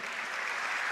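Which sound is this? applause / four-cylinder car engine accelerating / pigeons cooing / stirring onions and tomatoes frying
applause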